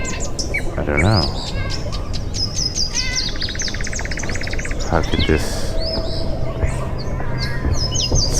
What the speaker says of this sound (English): birds. Different kinds of birds.